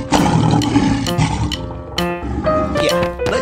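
A lion roars in several loud, close bursts, deep and rumbling, with short gaps between them.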